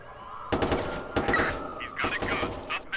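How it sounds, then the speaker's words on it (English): Bursts of gunfire from a Watch Dogs 2 police shootout, starting after a quiet half second and coming in clustered volleys, loud and close, with a short break before more shots. "shots fired, squad!"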